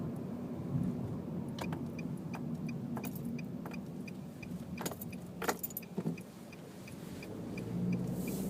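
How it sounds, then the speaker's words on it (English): Car interior on the highway: a low steady engine and road drone inside the cabin, with jingling keys and scattered light clicks and taps over it. "The engine is a little, like I said, buzzy, but at the highway it kind of settles down"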